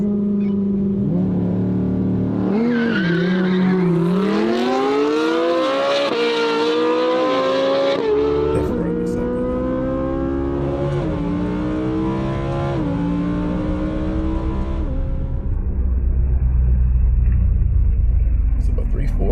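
Chevrolet C8 Corvette Z06 and a Ferrari in a drag race: a steady engine roar rising in pitch through several gear changes, with people talking excitedly over it throughout.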